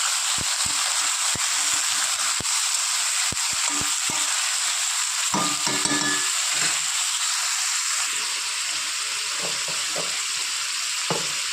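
Chopped pumpkin greens fry in a pan with garlic browned until red, making a steady, loud sizzle with scattered stirring clicks and a brief surge midway, with no talk.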